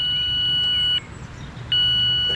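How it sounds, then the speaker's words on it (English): Fishing bite alarm fitted with a bobbin on a lakeside rod, set for bottom fishing with a weight and prawn bait, gives two steady high electronic beeps with a short gap between them, loud and close over faint low background rumble. "on this bite alarm with a bobbin"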